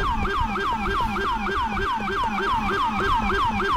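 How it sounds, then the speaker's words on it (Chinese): Police car siren from a Liberty City NYPD cruiser in Grand Theft Auto IV, a low, steady wail repeating in quick rhythmic sweeps, loud and continuous throughout with no other sounds over it. "纽约警车的警笛真的是超经典的， 这种低沉的声音呢"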